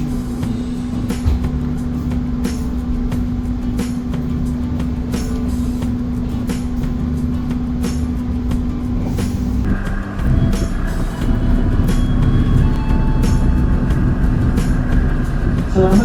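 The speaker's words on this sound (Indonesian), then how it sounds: "on time pukul 6:55 kereta Purwojaya diberangkatkan dari stasiun Cilacap" Stainless-steel Purwojaya executive train departing Cilacap station, heard from inside as a loud steady mechanical hum and rumble with a sustained tonal drone, the pitch and texture shifting as it gets underway.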